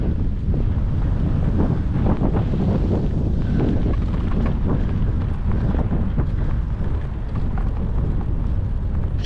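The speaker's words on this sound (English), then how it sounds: "It's all day windy." Strong wind buffets a bicycle rider's microphone on a tour through Austria, a loud continuous roar with gusty pulses that lasts the whole stretch, with no voices over it.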